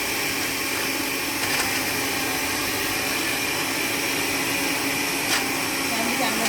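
Kitchen blender grinding ingredients with a little water added, a steady, loud whirring drone running throughout with a couple of brief clinks.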